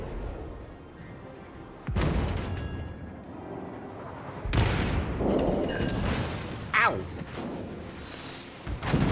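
Warships firing high-explosive shells in World of Warships: heavy, loud cannon booms landing at irregular intervals over a constant rumbling battle backdrop, with sharper cracks and whooshes in between.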